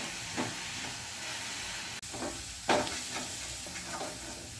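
Ground small onions fry in a pan for a Chettinad-style thokku, giving a steady sizzle broken by several scraping stirs of the spoon, close and alone.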